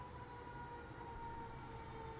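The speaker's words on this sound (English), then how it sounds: "Oh, we got Shmoo, you looking at the ambulance?" A distant ambulance siren outdoors holds a faint, steady wailing tone under low background noise.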